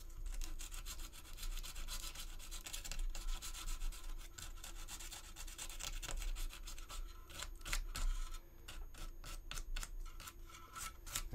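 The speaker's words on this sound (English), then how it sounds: "Give it a light sanding." A resin Xenomorph Queen model being lightly sanded: continuous rapid scratchy rubbing strokes, close and steady, turning into sharper separate rasping passes near the end.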